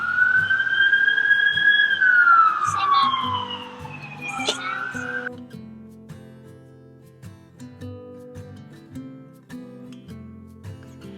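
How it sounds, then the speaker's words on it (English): A wailing emergency siren rises and sweeps, then cuts off, leaving quieter traffic and a few distant voices in the background. "I'm gonna miss the sound of the sirens every day, all day"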